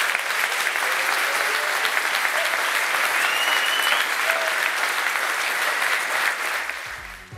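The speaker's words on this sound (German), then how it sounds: "Das ist euer Applaus." A sold-out studio audience at a live sports show in Cologne claps in loud, dense applause that holds steady and then fades at the end.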